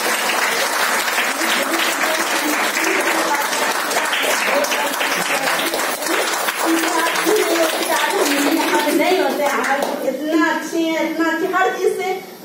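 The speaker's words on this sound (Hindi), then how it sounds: "सबके लिए जोरदार तालियां" Crowd applause at a Women's Day motivational speech event, dense sustained clapping filling the room at full volume, with voices rising through it toward the end.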